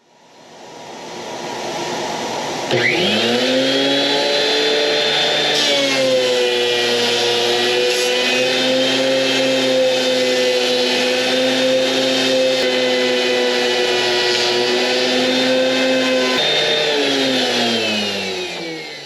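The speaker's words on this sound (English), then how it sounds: "my next thing is going to be a rough sawn cedar fence post. Now, this is a lot softer wood, and let's see how well this runs through." A thickness planer spins up with a steady, loud motor whine and stays at full pitch while a rough sawn cedar fence post, a soft wood, feeds through, then winds down at the end; no talk.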